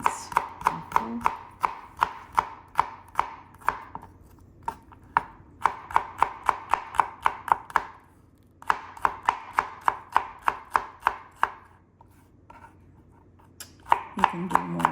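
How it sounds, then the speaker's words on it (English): A knife slicing and mincing on a cutting board for spaghetti carbonara, crisp rapid chops in quick runs with short pauses between bursts, close and clear with no talking. "Now all I'm going to do is slice it up and then mince after."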